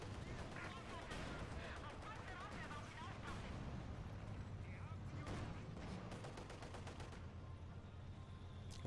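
Mortar fire in a World War II strategy video game, with dull distant booms and scattered gunfire over a constant rumbling battle backdrop, while someone talks throughout.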